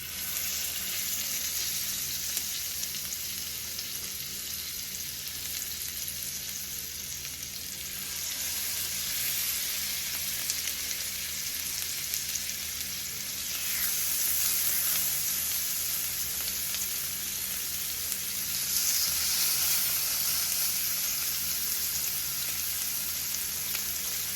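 Lamb chops sizzle in olive oil and melted butter in a pan, a steady, dense crackling hiss that runs throughout and swells louder in places, with no talking.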